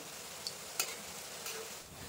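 Ripe mango fritters frying in oil, giving a soft, steady sizzle broken by a few brief clicks and pops, quiet and close with no talking.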